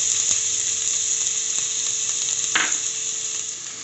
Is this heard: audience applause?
no